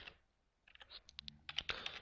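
A computer keyboard clicks as a web address is typed, quick soft keystrokes starting sparse then tightening into a faster run, close and fairly quiet with no talking.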